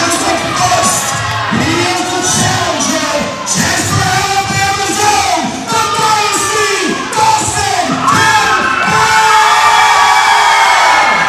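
Loud wrestling arena crowd at a New Era Wrestling event, a sustained roar of cheering, whooping and yelling with shrill individual shouts and occasional thuds, continuous throughout.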